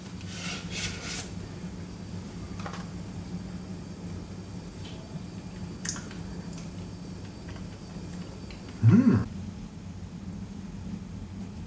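A spoon or spatula scrapes homemade vanilla ice cream out of the bowl of a Cuisinart ice cream maker, giving soft rubbing and rasping strokes over a steady low hum, with one brief louder scrape near the end.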